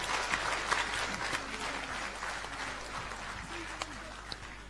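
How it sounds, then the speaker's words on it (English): Applause from an audience for a group of young girls after a performance at a New Zealand event, a fairly faint, diffuse patter of clapping with some crowd noise and a few louder claps. "So please give a round of applause to all my little girls here."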